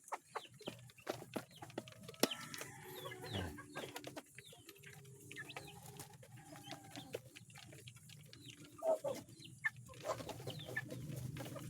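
Ten-day-old chicks peck at feed on a farm, giving soft, scattered clucks and peeps over a steady low hum, faint and continuous throughout, with no speech.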